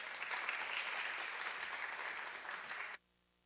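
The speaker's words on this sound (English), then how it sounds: "Clap it up for your ladies one more time." Audience applause at a leadership event, a steady dense clapping from a crowd that holds for about three seconds and then cuts off abruptly, leaving near silence.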